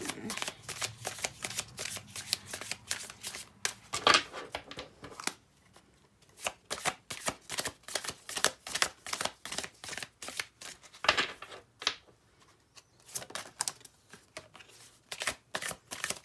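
Tarot cards are shuffled by hand in quick riffling and rustling bursts, close and fairly loud, with brief pauses between runs.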